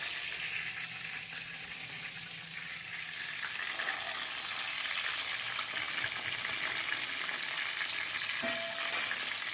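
Pieces of chicken for chilli chicken frying in hot oil until golden, a steady close sizzle that swells a little louder partway through, with faint scraping as pieces are turned and lifted out.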